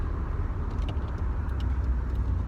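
A Mercedes SLK pulls away in a car park on a warm, windy day, a steady low engine rumble with road and wind noise close by, continuous throughout.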